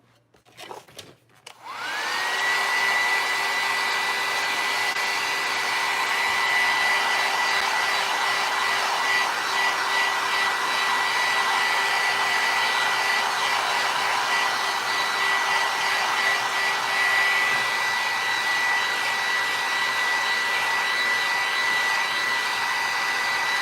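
A hair dryer switches on after a brief rustle and blows a loud, steady, high whirring stream at close range to dry paint on a terracotta pot, running continuously with no voices.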